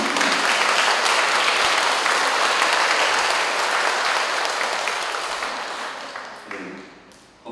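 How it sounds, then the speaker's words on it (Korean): A congregation in a Catholic parish church applauds after a Mass celebrated by a returning priest. Sustained, dense clapping fades gradually toward the end, then a brief stir of sound follows. "박수 주세요."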